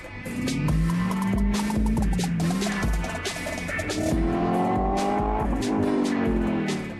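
A car engine revs hard over a steady loud roar, its pitch climbing and falling in repeated sweeps, with brief tire-squeal-like tones mixed in; no one speaks.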